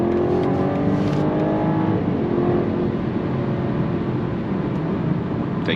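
A car accelerates at full throttle on a straight, its engine a loud, steady drone with rising harmonic tones that holds for the whole stretch, with no voices.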